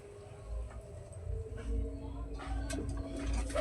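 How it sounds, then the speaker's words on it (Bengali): Pigeons feeding on scattered mustard seeds give soft low coos and light pecking taps, close by and fairly faint over a steady background murmur. "তো পায়রারা কিন্তু অনেক শস্যও ভালো মানে খেতে ভালোবাসে তো দেখো কত সুন্দরভাবে কিন্তু খাওয়া দাওয়া করছে"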